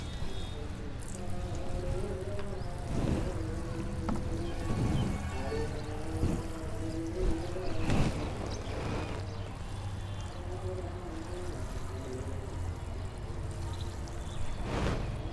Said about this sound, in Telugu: ఇట్లా మనం షవర్తో వాటర్ పోసుకోవాలండి